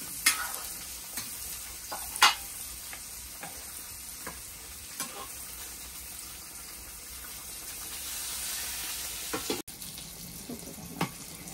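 Pointed gourd (potol) slices fry crisp in a pan with a steady sizzle, broken by sharp scraping and clinking of a spatula as they are stirred.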